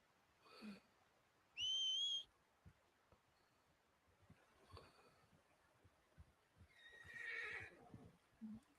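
A video game horse named Hooch neighs and whinnies in several short bursts, with a shrill whistle-like call and soft hoof clip-clops between them; no talking is heard.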